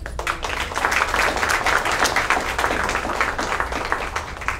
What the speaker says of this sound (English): please give a round of applause for all of our SBA partners who are here today